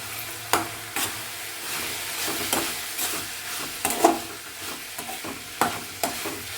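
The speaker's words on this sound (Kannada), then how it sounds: "ಇವಾಗ ನಾನು ಕಾಯಿ ತುರಿ ಹಾಕ್ಕೊಳ್ತೀನಿ. ನೋಡಿ ಇಷ್ಟು ಕಾಯಿ ತುರಿಯನ್ನು ಹಾಕಿದ್ರೆ ಸಾಕು." Grated coconut being stirred into capsicum rice in a pan, with soft scraping and sizzling stir strokes repeating at an uneven rhythm close by, no talking.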